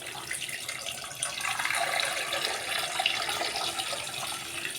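Water runs steadily into a pressure cooker holding beef for pares, a soft continuous splashing pour that swells slightly midway and carries on without talk.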